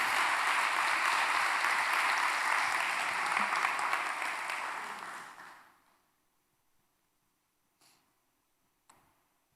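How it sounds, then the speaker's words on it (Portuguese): A church congregation applauds, with dense, sustained clapping for about five seconds that fades out into near silence, followed by a couple of faint clicks. "Quantos podem aplaudir o Senhor Jesus por isso?"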